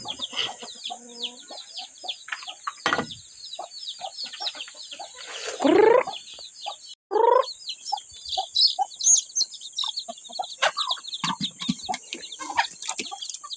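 Chickens cluck and chirp steadily for several seconds, with a few louder squawks partway through and a constant high-pitched hiss running underneath.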